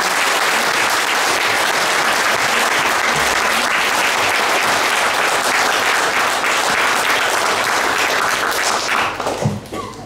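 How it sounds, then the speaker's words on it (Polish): A crowd at a patriotic congress applauds children, clapping loudly and continuously in a dense wash of applause that tapers off in the final moments. "należy się dzieciom wielkie brawa"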